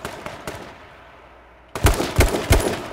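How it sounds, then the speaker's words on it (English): Gunfire in the game H1Z1 Battle Royale, a few loud sharp shots cracking close after a quiet stretch of low ambient noise, firing in a quick uneven burst. "Let's try to shoot at this guy,"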